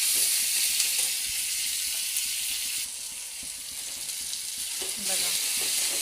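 Tomatoes and onion for chutney hiss and crackle in hot oil, a loud, steady sizzle that dips briefly and swells again, with no voices over it.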